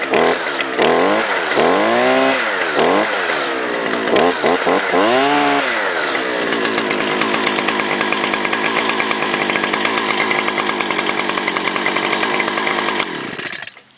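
A small gas string trimmer engine is revved hard several times with rising and falling whines, then settles into a sustained high buzzing run before cutting off abruptly; loud and close, with no talking.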